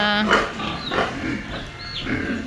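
Pigs at a small piggery farm grunt and squeal in several overlapping bursts close by, with a person talking over part of the animal noise.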